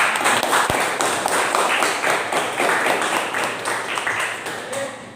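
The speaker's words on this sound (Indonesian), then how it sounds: "Tepuk tangan buat kalian" A class of students claps together in a classroom, a fairly close burst of rapid, scattered hand claps that carries on steadily for several seconds.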